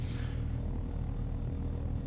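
Helicopter lifting off in the video game DayZ, a steady low rotor and engine rumble holding at an even level throughout with no voices.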